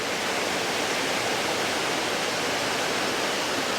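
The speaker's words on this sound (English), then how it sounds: "just enjoy the waterfall here at Laurel Falls" Laurel Falls near Gatlinburg, Tennessee, pours in a constant broadband rush of falling water, loud and steady with no pauses or voices.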